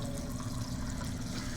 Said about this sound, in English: I'm going to top this off with a little bit more water from the sink